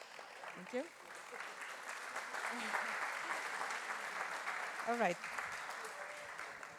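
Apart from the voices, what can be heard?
audience applause for speakers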